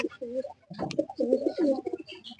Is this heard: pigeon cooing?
yes